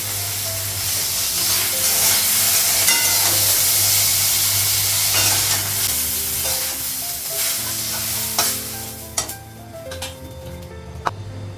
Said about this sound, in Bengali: বেগুন ভাজাটা হয়ে গেছে